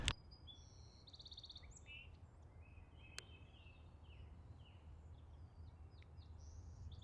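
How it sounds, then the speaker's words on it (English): Small birds chirp and twitter in Stanley Park, Vancouver, with repeated short high calls scattered across the moment over a steady low rumble of ambient noise; one sharp click stands out midway. "I can hear more birds chirping away."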